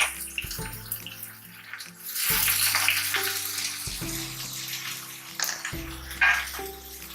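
Cumin and onions frying in a pan, a broad hissing sizzle that swells when the onions go in and continues steadily with small bumps, close and moderately loud.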